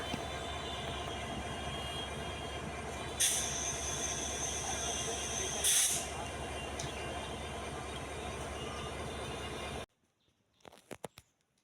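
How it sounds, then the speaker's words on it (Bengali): A train pulls into Santahar railway station, its loud steady rumble and clatter broken by two bursts of shrill wheel squeal, then cutting to quieter platform sounds. "ট্রেন চলে এসেছে, এখন আমাদের ওঠার পালা।"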